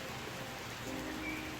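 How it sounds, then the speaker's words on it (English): Steady rainfall in the city-building video game TheoTown, a soft continuous hiss of rain, faint and even throughout with no talk. "I love the rain in this game."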